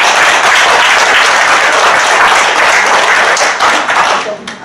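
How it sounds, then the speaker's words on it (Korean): Sustained loud applause from a seated audience at a book launch celebrating a newly published short story collection, dense and steady before thinning toward the end. "장정옥 선생님이 작가 생활의 앞날에 신의 가호가 함께하기를 기원하는 박수를 보내드립니다"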